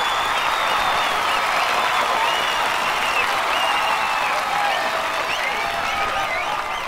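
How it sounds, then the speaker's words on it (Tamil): Loud, dense crowd applause fills a dramatic scene in a Tamil-dubbed action film, a steady roar of many hands clapping throughout without pause. "எனக்கு தெரியும் உங்களோட இந்த கைத்தட்டல் நான் சம்பாதிச்சது கிடையாது, நம்ம அண்ணன் கொடி சம்பாதிச்சது."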